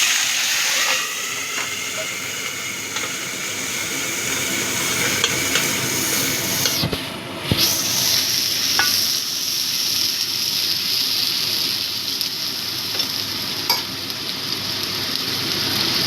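Onion paste hits hot oil tempered with cinnamon, cloves and cardamom, bursting into a loud hiss partway through, then settling into a continuous sizzle with occasional stirring clinks.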